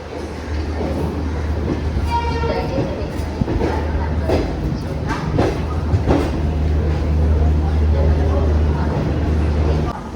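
The Chennai–Shalimar Coromandel Express passes close by as a steady, heavy rumble with rhythmic wheel clatter throughout, a brief rising tone near the start, and faint voices in the background.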